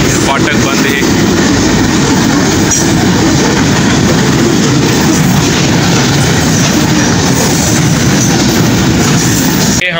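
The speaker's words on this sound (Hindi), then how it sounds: "ट्रेन गुजर रही है इस वजह से जो है फाटक बंद है।" A train rolls past a closed railway crossing, a loud, steady rumble of wheels and wagons with faint clickety-clack filling the whole stretch, close by and continuous throughout.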